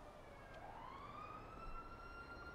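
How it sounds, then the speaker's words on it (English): A distant police siren in the video game GTA rises and holds a steady wail, faint over a low background hum, with no talking. "I hear a siren."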